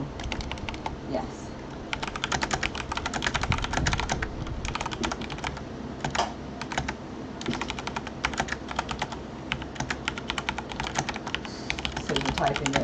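Rapid clattering keystrokes on a computer keyboard run throughout, loud and close, with dense irregular bursts and brief pauses, heard during a game casting session.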